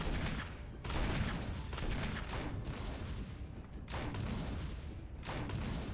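Dense, sustained video game gunfire barrage from Resident Evil, loud overlapping shots with a few sharper bursts standing out, continuous for the whole stretch with no talking.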